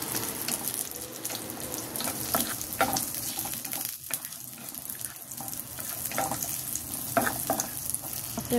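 Chili goes into a hot pan after Chinese sausage for claypot chicken, giving a soft, continuous sizzle with scattered stirring scrapes and clicks, fairly faint and with no talk.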